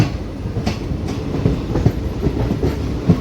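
The Meenakshi Express rolling along the rails, a close, loud rumble with rhythmic clickety-clack of wheels over rail joints, steady and continuous with no voices.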